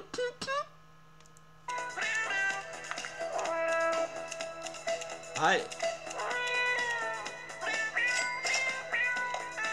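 A cat in a box meows repeatedly, several drawn-out, close meows in irregular bursts, with a person briefly speaking near the start and a faint steady hum underneath.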